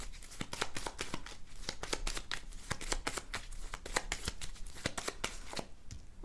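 Several tarot card decks shuffled in quick succession, a dense run of crisp riffling snaps close to the listener, steady and unbroken with no talking.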